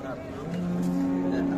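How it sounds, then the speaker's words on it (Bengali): A cow at a cattle market gives a low, drawn-out moo building in loudness, heard close amid general market noise. "আর এটা হচ্ছে গাভীটা।"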